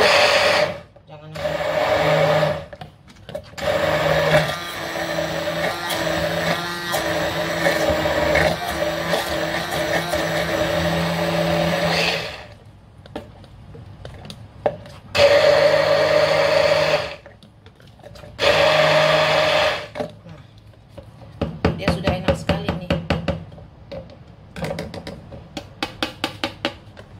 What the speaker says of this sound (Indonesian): kita aduk lagi dengan mixer ini ya supaya kacau ya